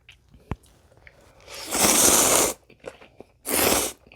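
Ramen eaten with kimchi: a sharp click, then two loud, close bursts of slurping and crunching separated by a short pause, with small mouth sounds between.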